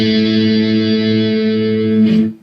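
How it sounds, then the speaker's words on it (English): A single distorted electric guitar chord rings out loud and sustained for about two seconds before it is muted with a brief scrape at the end. "The first part is just going to be 1 guitar chord."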